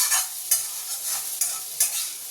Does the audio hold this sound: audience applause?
no